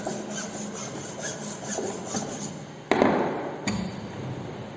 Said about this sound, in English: we are using flat file for finishing the ends of the mortise